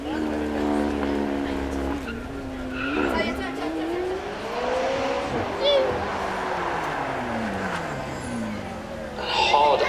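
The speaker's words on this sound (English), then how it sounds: "it's still a V8, but this one's got turbo strapped to it. Have a listen to that different sound." A turbocharged V8 supercar roars past on a circuit, engine note rising and falling through gear changes, with tire squeal and a voice talking over it.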